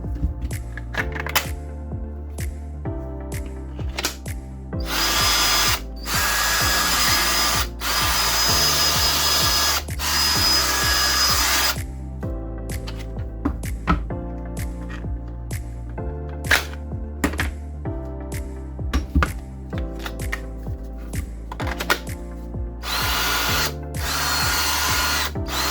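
A Makita G Series power tool is running on a Parkside 20V 1.5 Ah battery. It gives repeated short whirring bursts with some longer sustained runs, stopping and starting throughout. The sound is close and loud, with no talking.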